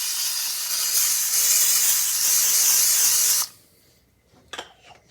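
Canola cooking spray hisses from the can into a frying pan on medium-low heat, a loud steady burst of about three and a half seconds that stops sharply, followed by faint clatter.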